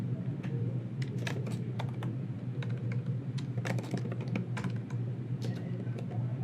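Steady typing on a computer keyboard, with irregular light key clicks tapping close by over a low background hum and no voices.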